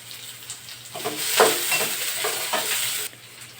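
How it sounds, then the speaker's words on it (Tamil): Onions frying with drumstick leaves in a pan make a close, soft sizzle, with stirring scrapes swelling and fading over a few seconds before the sound drops away. "வெங்காயம் நல்லா வதங்கிடுச்சு"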